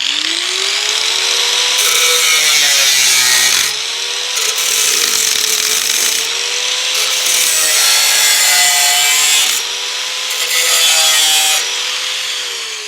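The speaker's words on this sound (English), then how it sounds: "Alright, let's cut this again. I think I need another grinder." Angle grinder cutting metal while restoring a 1972 MG Midget: loud, sustained high whine that rises and sags as the disc bites, close and alone with no talk.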